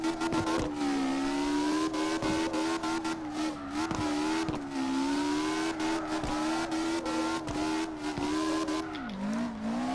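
A tuned car drifting in CarX Drift Racing on PS4 holds a steady, loud engine drone with small pitch wavers and tire scrubbing, then drops in pitch near the end.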